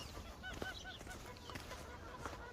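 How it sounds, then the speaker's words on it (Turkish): Geese honking at a goose farm, several repeated nasal calls overlapping over steady rustling farmyard background at moderate distance. "Burada kazlar var."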